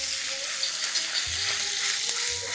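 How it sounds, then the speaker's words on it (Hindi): Grated ginger sizzling with crackling cumin in hot oil for street-style monsoon snacks, a dense continuous frying hiss with a few low thuds and faint clinks, close and steady. "जैसे ही जीरा क्रैकल हो जाए we are going to go in with our ginger."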